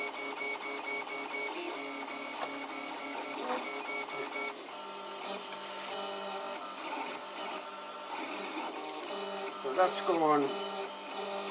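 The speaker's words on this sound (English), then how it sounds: "I am printing off the SD card on this display." A 3D printer runs steadily, printing a job from an SD card with an LCD 12864 display, its stepper motors whining and warbling continuously at close range while someone speaks briefly over it.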